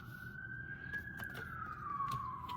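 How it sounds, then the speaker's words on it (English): A police siren wails from a distance, one long tone sliding slowly up and then back down, faint behind a low background rumble. "I'm hearing police sirens."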